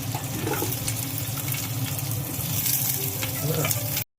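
Green chillies frying in oil in a pan for dum biryani, a steady, close broadband sizzle with faint stirring, running evenly throughout before cutting off abruptly at the end.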